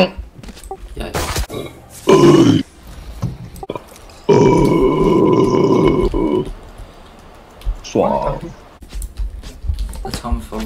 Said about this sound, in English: burp video incoming